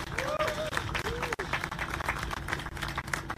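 A crowd at an outdoor political rally for protecting the Arctic refuge claps and cheers for singers, producing a lively, uneven patter of applause with a voice rising briefly over it near the start.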